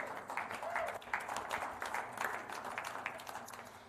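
An audience at a photography awards night claps steadily throughout, a soft continuous patter of many hands heard from some distance.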